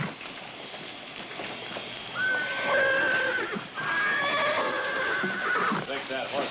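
A horse whinnies loudly in a rainy Western ranch scene, two long neighs rising and falling with some hoof clatter in the background.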